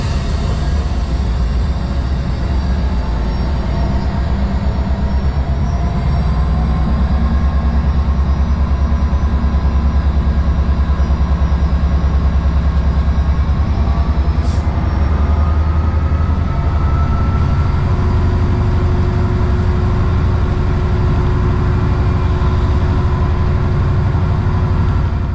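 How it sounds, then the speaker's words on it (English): Steady heavy diesel drone of a Class 59 locomotive hauling an aggregates train from the Mendip quarries along the Great Western Main Line, loud and continuous with rumbling low engine tone and rail noise throughout. "Our train today has travelled along the Great Western Main Line from the Mendip Quarries and it is bound for the aggregates"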